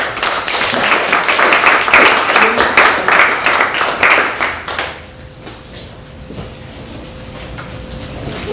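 An audience claps for a panel at a psychedelic awareness salon. The applause is dense and loud for about five seconds, then fades to scattered claps and low room noise.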